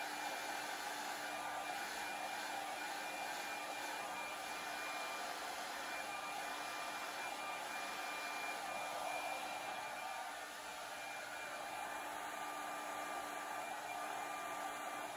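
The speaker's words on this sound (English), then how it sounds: "Now I'm getting really close with the blow dryer, like super close, and pulling back." Blow dryer held very close to wet epoxy resin to push it into waves: a steady, continuous hiss-like whoosh of moving air, fairly loud and unbroken throughout, with no voices.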